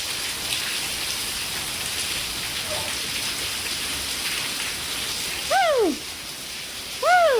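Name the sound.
rain falling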